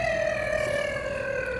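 An ambulance siren sounds as a loud, continuous wail with a slowly falling pitch, alone and with no voices over it.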